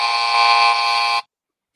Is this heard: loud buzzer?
yes